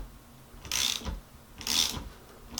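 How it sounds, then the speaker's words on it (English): Ratcheting clicks from tightening the nut on a Boosted Board electric skateboard belt assembly, two short close bursts of rapid metallic clicking separated by a brief pause. "keep tightening down the nut"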